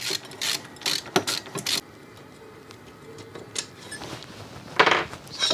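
Ratchet clicking while loosening caliper bolts on a Tao Tao ATV, several short bursts of fast mechanical ticks close by, separated by quieter handling noise.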